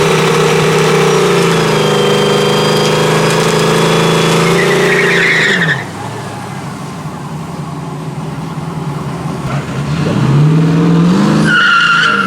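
A Fairlady drift car runs at a UK multi-track drag event with tires squealing and skidding hard over a loud, roaring engine. The revs dip and settle midway, then climb again with fresh squeals, close and continuous.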